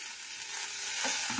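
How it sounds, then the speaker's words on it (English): Onions fry in a hot pan as they caramelise, after a Coke Zero glaze has cooked off, giving a brief close, steady crackling sizzle that brightens near the end, with no talk. "Now you can hear the sizzle."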